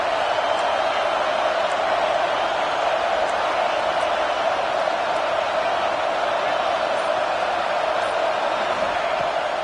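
Steady, distant roar of a stadium crowd at a football game, a broad continuous wash of voices with no distinct peaks, holding evenly throughout.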